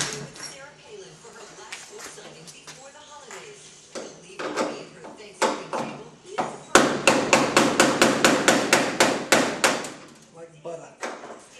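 A rapid series of sharp hammer strikes on metal, about a dozen evenly spaced knocks, preceded by quieter clatter and scraping of tools.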